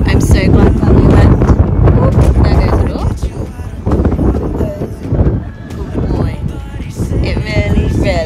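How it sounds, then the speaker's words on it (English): Strong wind buffeting the microphone in loud, gusty rumbles at an outdoor equestrian event at Askham Bryan, with a person talking through the blustery noise. "gosh it's a bit windy"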